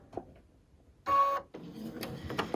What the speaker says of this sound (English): I'll put my foot down and I'll do just a little bit of a tacking stitch